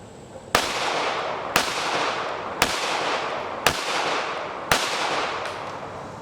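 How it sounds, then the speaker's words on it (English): A Kel-Tec PMR-30 .22 Magnum pistol fires five sharp, evenly spaced shots about a second apart, each crack trailing off into an outdoor echo. "just gonna shoot off about 5 rounds."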